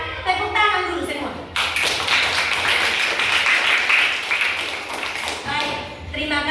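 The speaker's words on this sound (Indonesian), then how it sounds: "kita tepuk tangan dulu semua" A school class joins in clapping together at the close of a lesson, a dense burst of hand claps from many children that fills the room for several seconds, with voices heard before and after.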